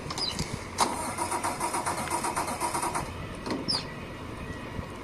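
A truck engine cranks and turns over in Mafia III, a starter burst followed by a rough, rhythmic mid-range idle pulsing for several seconds, fairly loud and close against steady background noise.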